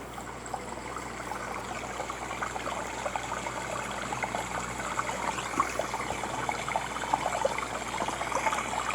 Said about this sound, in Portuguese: Colocar uma música, som de água, que eu acho que é relaxante.